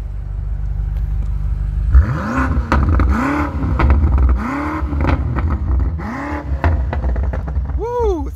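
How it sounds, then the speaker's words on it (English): A BMW engine revs up and falls back in four repeated swells, then gives a final quick blip, loud and close, with brief voices in the background. "Let's do one more rev time"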